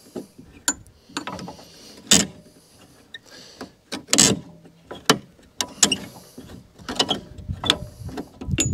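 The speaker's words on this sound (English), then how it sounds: "And just slacken those bolts off, okay?" Spanner work on the bolts of an Atco Balmoral cylinder mower, a series of close, sharp metallic clicks and ratcheting taps in irregular bursts separated by quiet gaps.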